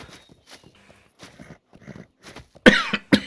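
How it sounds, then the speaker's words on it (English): Two loud, close coughs burst out near the end, following a stretch of quiet, muffled talk. "really loud cough"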